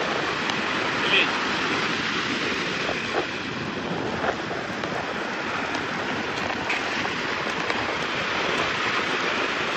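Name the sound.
sea waves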